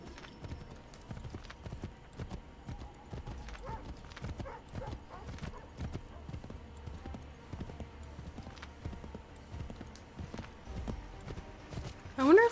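Horses trotting in Assassin's Creed III, repeated clip-clop hoofbeats in a steady rhythm at moderate volume, with a whinny and other game sounds around them.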